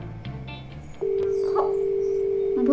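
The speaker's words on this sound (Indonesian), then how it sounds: "Coba saya telepon istri dulu ya." A telephone dialed to call someone: a few quick electronic keypad beeps, then a steady, unbroken line tone that continues to the end against faint background noise.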